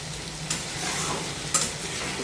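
Potatoes for an aloo side dish fry steadily in a pan, hissing quietly and evenly, while two brief louder scrapes from the stirring utensil stand out.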